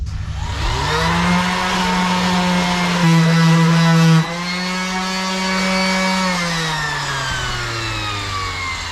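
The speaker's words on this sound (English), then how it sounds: "so I'm just going to sand those down real quick" A power sander hums steadily while smoothing high spots on a boat's fiberglass hull, its motor pitch rising and dropping slightly as pressure changes, loud and close with no talk.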